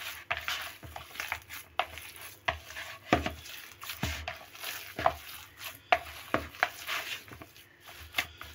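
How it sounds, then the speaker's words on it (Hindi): Minced beef for kofta is kneaded with spices by hand, giving a run of quiet, squelchy, irregular slaps and presses, close and soft, with no voices. "अब हम हाथ की मदद से इसे अच्छी तरह से मिक्स करेंगे।"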